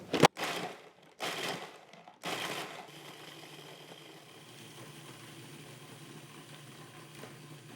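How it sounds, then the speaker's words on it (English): A food processor crushes cookies in a few loud, short bursts at the start, each cutting off abruptly, followed by a quiet hum of room noise. "I think it's just easier to do with a food processor"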